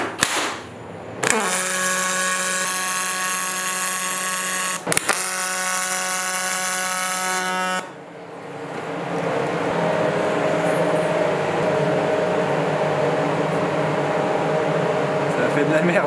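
A large wire-feed welding machine hums with a steady tone while its motor feeds wire, then gives way to a continuous crackling arc laid on the aluminium hull of a jet boat, loud and close, with no talking.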